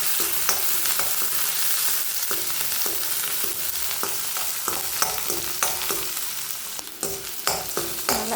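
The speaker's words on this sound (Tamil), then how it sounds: "தட்டி வச்ச பூண்டு, கருவேப்பிலை போட்டு நல்லா இப்போ நம்ம வதக்கிக்கலாம்." Onion, garlic and curry leaves sizzle in a hot pan, with a constant frying hiss and repeated clinking scrapes of a spoon stirring, close and fairly loud.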